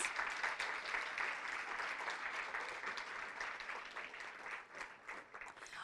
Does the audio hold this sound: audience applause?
yes